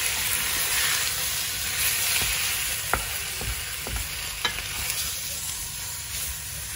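Pork pieces browning in a hot pan with curry, a steady loud sizzle throughout, broken by a few sharp clicks of a utensil stirring the meat.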